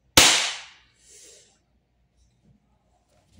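A WE Glock 17 Gen 4 airsoft gas blowback pistol fires one sharp, loud crack with a short hissing tail of gas, then a faint clack follows and the rest falls nearly quiet.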